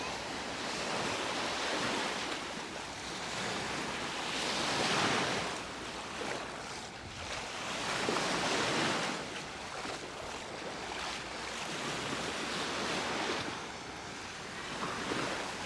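Waves breaking on the shore at Palmanova, Mallorca, in repeated surging washes every few seconds, loud and close with some wind buffeting the microphone, no talking.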